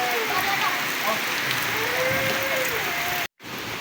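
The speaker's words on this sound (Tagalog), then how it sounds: "grabe yung ulan" Heavy rain pours down in a dense, steady hiss close by after a typhoon, with wind picking up, faint voices beneath it and a brief dropout near the end.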